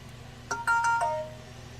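A short electronic phone ringtone chimes a few bright tones in quick succession over a low background hum, then fades.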